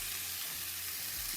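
Squash and carrots sizzling as they stir fry with red and white onions in a hot pan, a steady close crackle with soft stirring scrapes throughout.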